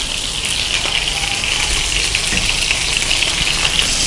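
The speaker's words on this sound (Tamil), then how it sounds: "இப்போ நான் ஃப்ரை பண்ணிக்கிறேன்." Prawns frying in hot oil on a simmering stove, a loud, steady dense sizzle and crackle, close up and continuous with tiny pops throughout, and no one talking.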